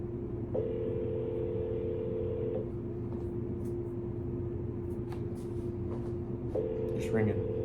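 Phone ringing on speaker during a call, a steady ringback tone in two long bursts with a gap between, while a person talks over the line in a car.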